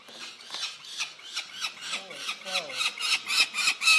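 A falcon chick being held for banding lets out a rapid series of harsh, rasping squawks and screeches, close and loud, growing more intense toward the end with a few squealing notes.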